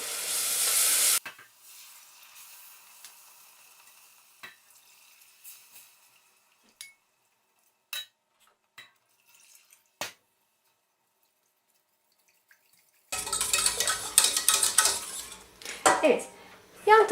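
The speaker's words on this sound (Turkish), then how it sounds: "yine karıştırmaya devam ediyorum" A sweetened milk mixture is stirred in a pot, with scraping and clinking from the utensil in short bursts at the start and end and sparse taps in a quiet middle stretch; a voice talks briefly in places.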